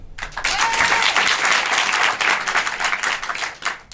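A theater audience at an improv festival in Paris applauds to vote for a character, with dense, steady clapping that swells quickly and holds loud before tapering off near the end; one voice calls out briefly.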